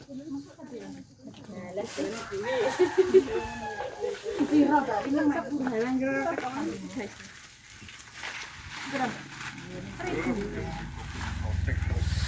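Chickens cluck in a village where food is being sold, their repeated calls close and moderately loud, mixed with people talking nearby.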